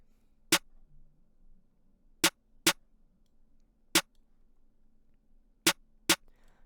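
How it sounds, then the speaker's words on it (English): Six sharp, punchy clap-snare hits spaced irregularly over a quiet low hum, each loud and short with a crisp, harsh attack. "And with the clap, I actually layer it with the snare in this beat."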